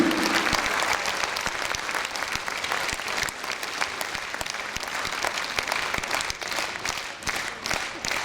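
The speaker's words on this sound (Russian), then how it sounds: "ритмичные аплодисменты юным талантам авангард молодежи Осетии" Dense, sustained audience applause at a concert for young Ossetian performers, steady and full throughout with many hands clapping close and far, briefly over a low tone at the start.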